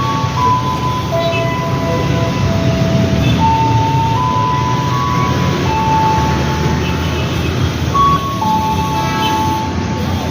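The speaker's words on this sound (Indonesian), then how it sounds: "keretanya sudah datang" A commuter train pulls into Buaran station with a steady heavy rumble and long, wavering metallic squeals from the wheels and brakes, loud and close throughout.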